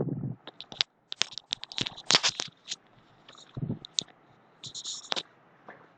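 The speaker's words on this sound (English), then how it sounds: "I am pressing the shift key." Shift key being pressed repeatedly on a computer keyboard, giving a series of light, close plastic clicks and taps in an irregular rhythm, with brief low thumps between them and no talking.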